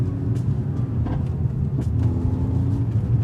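A steady high-mileage Mercedes-AMG A45 engine hums and rumbles while driving, a continuous low drone with faint road noise throughout.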